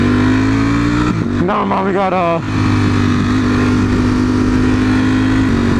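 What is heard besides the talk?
Ferrari car engines in a video game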